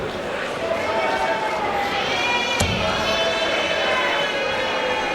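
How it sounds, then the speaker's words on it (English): Loud, sustained cheering and roaring from a big crowd at a celebrity darts match, filling the whole stretch with dense, continuous noise and one sharp impact near the middle. "Crowd's got well into this tonight"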